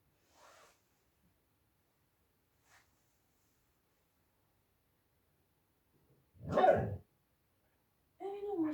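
A pet dog indoors during a yoga class gives a few faint, scattered sounds, then one short louder bark near the end, with long quiet gaps between them.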